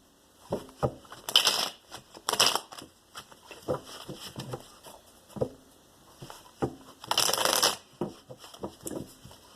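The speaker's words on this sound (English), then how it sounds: "Give these cards a quick shuffle here." Tarot cards are shuffled in quick riffling bursts, with softer taps and handling noises between them, close and fairly quiet.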